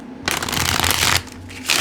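A deck of cards is shuffled up close in two quick riffling bursts, with a short pause between them.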